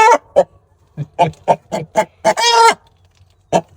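A rooster and chickens in a coop give a series of close, loud clucks and squawks in an irregular rhythm, with one longer drawn-out call in the middle.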